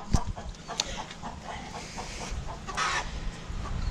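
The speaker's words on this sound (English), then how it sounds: "Hello, chooks. Sorry if I'm disturbing you." Backyard chickens in a chook yard cluck and murmur nearby, soft intermittent calls with a sharp knock at the start, over steady outdoor background.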